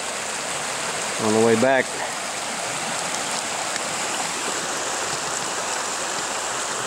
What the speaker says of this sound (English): just thought I'd get a little bit of footage of this little creek here. The sound of the water, so tranquil and peaceful.